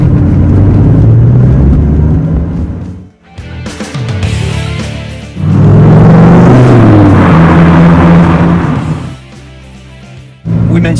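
A 2002 Dodge Viper GTS V10 engine gives a loud, deep growl that revs up and settles, rising again in throaty bursts with brief lulls between, close and powerful.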